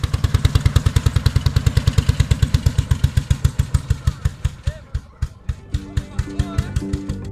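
An old vintage tractor engine at an outdoor exhibition of antique tractors chugs loudly and close by, with a steady rapid thumping beat that slows and loosens toward the end.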